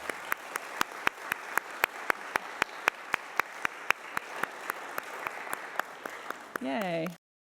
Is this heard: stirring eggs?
no